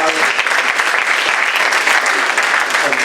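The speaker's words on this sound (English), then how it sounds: "I want to give all of our panelists a round of applause" An audience at a panel discussion on carceral states applauds the panelists, a dense, steady clapping from many hands that fills the room evenly for about three seconds.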